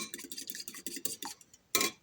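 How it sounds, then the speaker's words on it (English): An egg is whisked in a bowl with quick, light, rhythmic ticking strokes of a utensil against the side. The sound stays faint and close, then stops, and one sharper clatter follows. "I'll crack an egg and then we're just going to whisk it"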